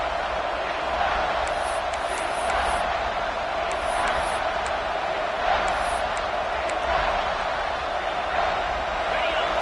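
Football stadium crowd at a South Carolina vs Ole Miss game roaring steadily on a third-down red zone play, a dense continuous wash of cheering with scattered high whistles, under a broadcast announcer's voice.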